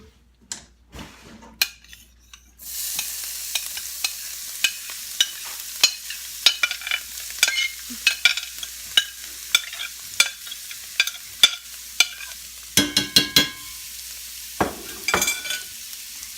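Riced cauliflower with spices stirred in a pan for a turkey divan, quiet at first, then a steady close sizzle from about the third second with repeated sharp scrapes and clinks of the utensil against the pan.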